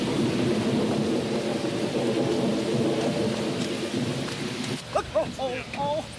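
Low rumbling thunder rolls under steady falling rain, then a few brief voice-like sounds break in near the end.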